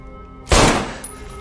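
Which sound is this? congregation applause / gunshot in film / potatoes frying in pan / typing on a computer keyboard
gunshot in film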